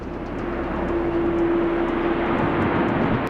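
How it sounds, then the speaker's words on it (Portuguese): A large airplane of over 300 tonnes roars steadily down the runway, a broad engine rumble with a sustained tone held across the few seconds, no voices. "Imagina um avião de mais de 300 toneladas acelerando pela pista a quase 300 km por hora."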